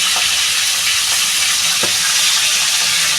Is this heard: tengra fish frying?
yes